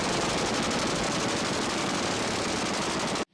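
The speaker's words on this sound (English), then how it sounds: "4 20mm cannons," Four 20mm cannons firing from a Hawker Tempest V fighter powered by a Napier Sabre engine, a continuous loud, dense roar of rapid gunfire lasting a few seconds before cutting off abruptly.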